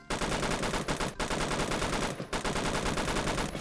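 A G3 rifle in the Roblox shooter Phantom Forces fires in loud, dense automatic bursts that fill almost the whole stretch, broken by two brief gaps.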